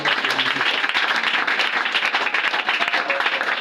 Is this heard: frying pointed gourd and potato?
no